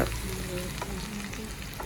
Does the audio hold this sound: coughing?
no